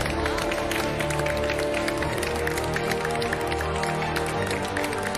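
Loud, continuous applause from a studio audience welcoming special guests on a cooking competition set, steady dense clapping layered over background music with no break.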